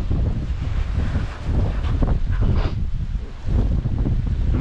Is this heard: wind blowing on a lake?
yes